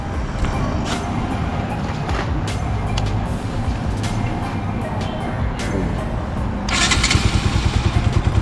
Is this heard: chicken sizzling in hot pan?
no